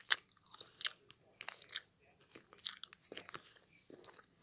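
Close, crisp bites and wet chewing of a deviled egg with pickle, in a run of sharp crunchy clicks and smacks with short pauses between them, and no talking.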